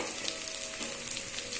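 Chopped garlic, slit green chilies and curry leaves sauté in hot oil for a yam stir-fry, producing a soft, steady sizzle with small crackles throughout.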